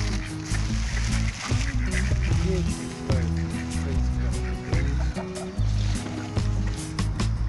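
Ducks and geese being fed in a park quack and honk continuously under a busy, noisy outdoor background, with people talking nearby throughout.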